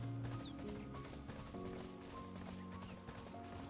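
Hoofbeats from a moose mount galloping in the video game Nier: Automata, a steady rapid clip-clop running continuously under game music with faint bird-like chirps.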